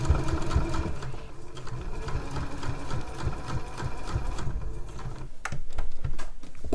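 A sewing machine top stitches a zip tote at a stitch length of 3, a fast, steady mechanical whirr of needle strokes that runs continuously and close by, with a couple of brief pauses near the end.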